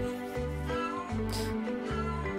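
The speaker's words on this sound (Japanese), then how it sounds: "猫が鳴いております。" A cat meows repeatedly in a Japanese radio studio, the cries rising over a steady low hum with a short bright burst near the middle, no talk heard.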